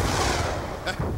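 Repeated popping gunfire from an elevated shooter in Call of Duty: Black Ops 2, a dense, steady barrage filling the short span with a couple of sharper accents near the end, and a voice faintly under it.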